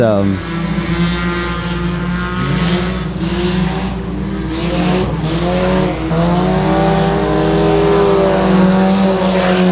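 Dirt track race cars racing at Sabine Speedway, several engines roaring and rising and falling in pitch as they pass and circle, loud and continuous with a deep steady drone underneath and a voice talking over the racing.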